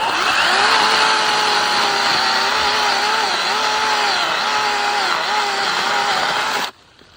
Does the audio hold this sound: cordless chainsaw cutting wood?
yes